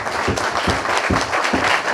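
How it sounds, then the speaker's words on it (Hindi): Applause from the audience at a Lahore journalists' club gathering, a dense, steady clatter of many hands clapping close by, lasting the full two seconds with no speech over it. "इसके लिए जोरदार तालियां तो मारो।"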